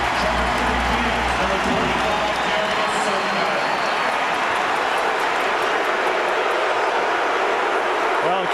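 A packed basketball arena crowd at a 2004 NBA playoff game between the Dallas Mavericks and Sacramento Kings roars in a loud, sustained wall of cheering that holds steady throughout, with an announcer's voice faintly audible beneath it.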